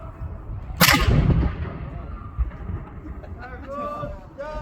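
A small cannon fires after a countdown, one sharp loud blast that decays over about a second, followed by quieter outdoor background and distant voices.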